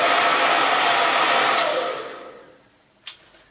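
A Diva Curl hair dryer blowing hair gives a loud, steady, breathy roar up close, which then winds down and fades out, followed by a brief click.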